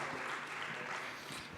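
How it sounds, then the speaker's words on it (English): An audience applauds after a startup pitch at a diplomatic startup challenge, a faint, steady wash of clapping over a short stretch, distant and even with no voices standing out. "Applause."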